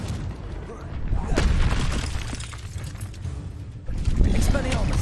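Fire blast spells cast in the Hogwarts Legacy video game, a run of booming, crackling bursts swelling and fading in waves, with a pause near the end before another loud blast, a voice audible amid the noise.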